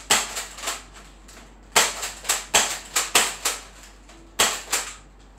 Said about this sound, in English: Then, just shoot like this. And again load, shoot.